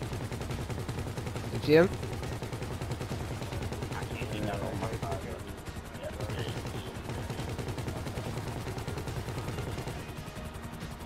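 Rapid bursts of gunfire from a big mounted gun in GTA V play as steady repeated shots, with one louder blast near the start and a voice speaking over the action.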